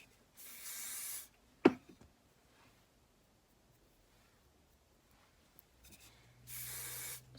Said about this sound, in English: I spray a little on my spoolie